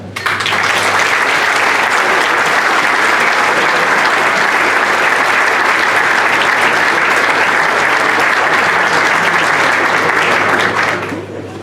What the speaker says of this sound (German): den darf jetzt einmal gleich sauber klatschen